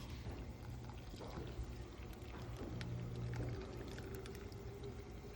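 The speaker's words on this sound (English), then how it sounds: "You take 1 3/4 cup of boiling water and pour it on top of the butter and brown sugar" Boiling water poured from above onto butter and brown sugar atop cake batter for sticky toffee pudding, a steady splashing liquid pour with a low gurgling rumble running throughout, close and continuous.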